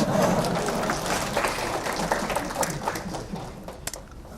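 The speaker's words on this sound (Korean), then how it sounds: "박수" Audience applause at a live tech presentation demonstrating Bash on Windows, a broad wash of clapping from a crowd that is loudest at the start and gradually thins out.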